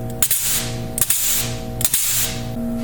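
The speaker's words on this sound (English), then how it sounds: "So here I'm greasing my U-joints and the main bearing in my pump" A hand grease gun pumps grease into a jet boat's U-joints and main pump bearing. Three evenly spaced sharp ratcheting clicks and squeaks sound at close range over a steady mechanical hum.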